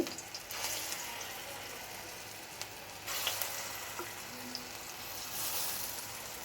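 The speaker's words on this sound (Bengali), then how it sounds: "কম ভাজবো না একটু বেশি বেশি করে লাল লাল করে ভেজে আমি বড়াগুলি করে নিচ্ছি" Small dried pea lentil fritters deep-frying in oil, a faint, steady sizzle with soft bubbling that swells and fades in places, heard alone without voices.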